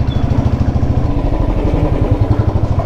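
A Royal Enfield motorcycle engine running close by, its steady low thump pulsing in an even rhythm throughout, loud and with no talk.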